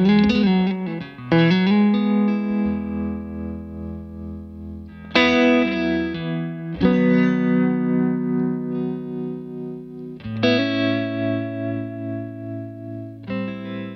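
Heavily distorted electric guitar chords through a Victory V140 Super Duchess valve amp ring out loud and sustained, several struck chords each left to decay with thick, saturated tone and no voices.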